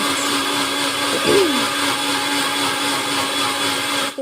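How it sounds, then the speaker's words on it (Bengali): A kitchen mixer grinder whirs steadily while grinding spices, a loud, constant motor drone close by with one brief wavering hum partway through. "এদিকে মিক্সিতে মশলা তো করে নিয়েছি"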